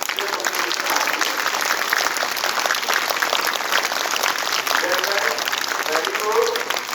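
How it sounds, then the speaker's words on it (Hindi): A group of schoolchildren applauding themselves, a loud, dense and continuous burst of many small hands clapping close by that holds steady from start to finish with faint voices mixed in. "तालियां बजाएं"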